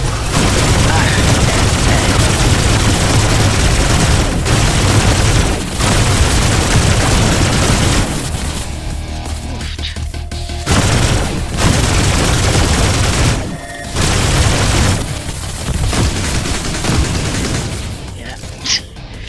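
Sustained, loud gunfire from an oversized right-hand gun in the video game Mothergunship, a dense roar of shots and booms with a few brief gaps, with voices talking beneath it.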